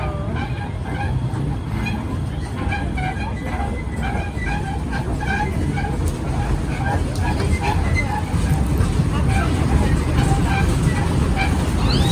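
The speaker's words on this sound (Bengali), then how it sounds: "ট্রেনে যে আসছে আর আমি একটু সামনে থেকে দেখিয়ে দিই ট্রেনটা আসা" A train rumbles past close by with continuous low mechanical roar and rattling, steady and loud throughout, with voices audible underneath.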